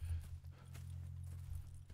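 Horse hooves clip-clop softly in Red Dead Redemption 2, a faint low rhythmic plodding over a steady background hum.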